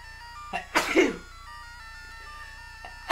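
A single person's sneeze during a recorded game session, one sharp burst near the mic over a steady electronic hum and background game music, with a few smaller breathy sounds around it.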